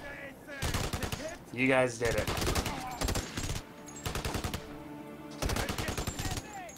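Rapid bursts of gunfire in the video game Kinect Adventures, repeated loud rattling volleys separated by short pauses, with a voice speaking briefly between them.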